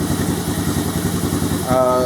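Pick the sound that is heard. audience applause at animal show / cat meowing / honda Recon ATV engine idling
honda Recon ATV engine idling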